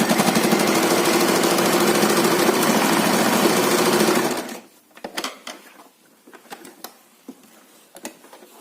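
A sewing machine runs steadily while stitching a fabric seam on a small square multipurpose bag, loud and continuous for about four seconds, then stops, leaving scattered light handling clicks.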